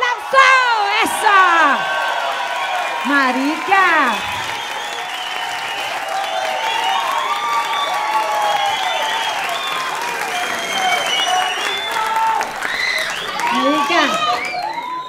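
A stand-up comedy audience breaks into loud applause and whoops as a comedian comes on, clapping sustained throughout while shouts and excited voices rise over it near the start and end.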